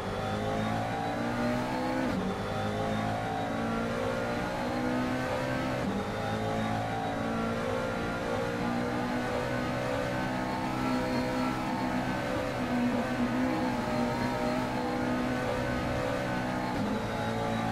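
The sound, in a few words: GT3 race cars on flying laps at Spa, from a racing video game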